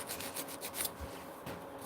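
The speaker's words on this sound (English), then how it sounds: "This is, I believe, like a 120 grit sandpaper." Rolled-up 120 grit sandpaper wrapped with sanding mesh rubs over a cleaning tool in steady close strokes, a dry rasping scrape with no talk.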